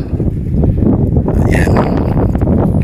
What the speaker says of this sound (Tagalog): Talagang ninanamnam yung lamig ng simoy ng hangin